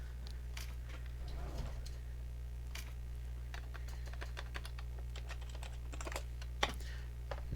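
Someone types on a computer keyboard, a run of light, irregular key clicks with short pauses and a few sharper taps near the end, close by over a low steady hum and with no speech.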